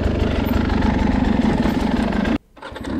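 A KDM dirt motorcycle idles close by at a trail riding area, a steady loud rumbling drone that cuts out abruptly near the end before a faint hum returns.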